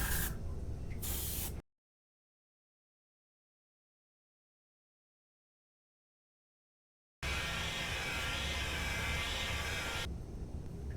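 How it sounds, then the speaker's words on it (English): Two bursts of hissing aerosol spray paint onto a carved wooden bluegill fish, a short one then a longer steady one, separated by several seconds of silence. "I'm going to spray this on top of the fish as well as on the fins"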